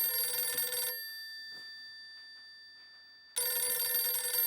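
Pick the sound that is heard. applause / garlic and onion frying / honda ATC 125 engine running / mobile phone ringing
mobile phone ringing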